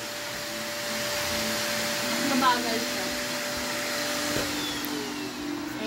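A vacuum cleaner runs steadily beside an inflatable backyard pool, its whining motor hum holding near and even throughout, with a voice briefly speaking over it.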